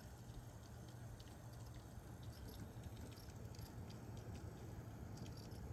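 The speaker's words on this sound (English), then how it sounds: "There's some gurgling through here." Coolant gurgles through the pump and tubing of a liquid-cooled MSI Suprim Liquid X RTX 4090 graphics card just after boot, a steady close wet bubbling over a low fan and pump hum, continuous throughout with no voices.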